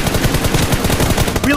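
Gunfire from an M416 rifle in PUBG Mobile, a fast automatic burst of evenly spaced shots, loud and close, firing without a break through nearly the whole moment.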